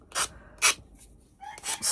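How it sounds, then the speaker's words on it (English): A finger sander works the edges of wooden star pinwheel pieces in short, close, raspy bursts, with about four distinct passes separated by brief pauses. "with the finger sander"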